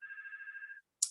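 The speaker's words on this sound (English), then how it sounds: "I'm sorry, that's my phone, my apologies." A mobile phone rings with a single warbling electronic tone lasting under a second, close and clear, followed by a brief sharp sound after a short gap.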